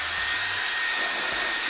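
A hair dryer bought from a pallet of returned goods runs at full power, a loud, steady blowing whoosh with an even motor whine throughout, with no voices over it.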